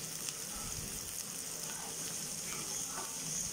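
Vegetables sautéing in a pan for egg Maggi noodles, with green chilli about to be added, give a steady, soft sizzle that runs continuously throughout, close and fairly quiet.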